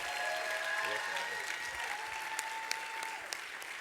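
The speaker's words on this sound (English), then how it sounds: "I thought you would clap very well." Audience at a lecture-style gathering breaks into continuous, fairly full applause, with a steady wash of clapping and faint tonal hum beneath it.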